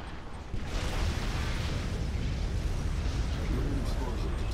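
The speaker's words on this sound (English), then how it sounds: "Nuclear missile launched." Nuclear missile strike in the real-time strategy game Command & Conquer, heard as a sustained, loud, dense rumbling roar that swells after half a second and holds steady with crackling debris and low booming throughout.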